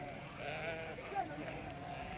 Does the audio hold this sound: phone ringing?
no